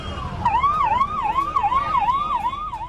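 An ambulance siren wails in a fast, steady up-and-down warble as it moves through road traffic in Bihar, close and loud over a low rumble of vehicles.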